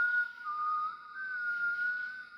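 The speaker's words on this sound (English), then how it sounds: "A whistle?" A steady, sustained whistle tone in a video game holds for about two and a half seconds, wavering slightly in pitch, clear and alone with no talk.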